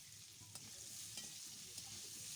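Steady hiss of potatoes frying in hot oil, with a few sharp scraping stirs at regular intervals; close and continuous, no voices.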